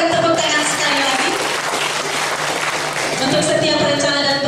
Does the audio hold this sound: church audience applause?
yes